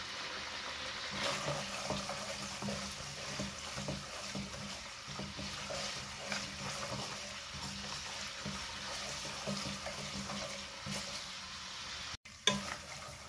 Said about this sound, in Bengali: এভাবে আঁচ কমিয়ে আমি শুটকিটাকে আগে ভেজে নেব।